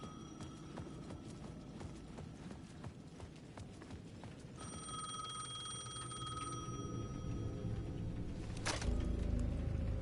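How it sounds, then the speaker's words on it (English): A payphone at the edge of a plaza rings in Alan Wake 2, a clear electronic trill starting midway and repeating over soft footsteps and a dark low ambience, with no talk. "The payphone at the edge of the plaza was ringing again."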